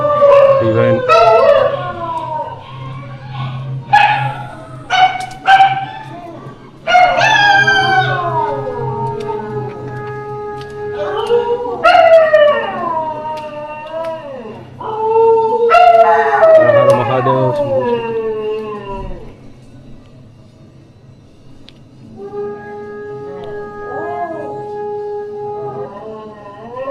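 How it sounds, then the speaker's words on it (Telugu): Several dogs howl at a Kaalabhairava temple in Warangal during a puja, with long, rising and falling wails that overlap and repeat across the whole stretch. Someone talks underneath and between the howls. "పూజ అవుతుంది దేవుడికి, అందుకే డాగ్స్ అని అరుస్తున్నాయి."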